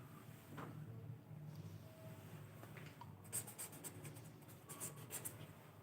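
Pen writing out a solution method on paper, faint scratchy strokes over a quiet room hum, with a cluster of sharper ticks and taps toward the end.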